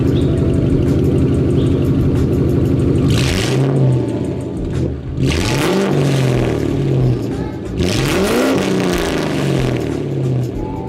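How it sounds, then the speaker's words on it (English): A car with a loud custom exhaust idles with a deep, steady rumble, then revs sharply three times, each rise swelling loudly and falling back to idle, close to the microphone. "now I'm gonna go ahead and set you guys up, give it a couple revs"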